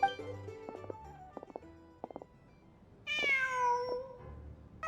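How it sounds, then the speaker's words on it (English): A cat meows in the video game Genshin Impact: one long, drawn-out meow rises and falls after a few soft, scattered tones over quiet ambience. "Just a cat."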